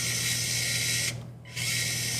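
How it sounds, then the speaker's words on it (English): A small electric screwdriver whirs steadily and loudly up close, cuts out for about half a second, then starts again with the same constant motor whine. "This screwdriver is stupid."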